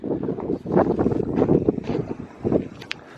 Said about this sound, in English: It is absolutely freezing. Oh, that wind.